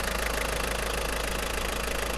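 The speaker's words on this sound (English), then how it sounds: "it is still a diesel engine, so it's loud." A 1994 Toyota Hiace's 3000cc four-cylinder turbo diesel engine idles with a steady, even rumble and a light knocking texture, heard up close and continuous with no talking.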